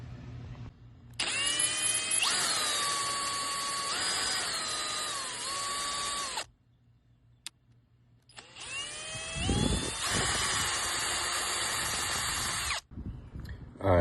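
A power drill bores holes in a boat to mount a universal swim ladder, whining loudly in two long bursts with rising and falling pitch, separated by a brief silent pause.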